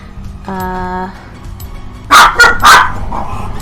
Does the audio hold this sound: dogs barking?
yes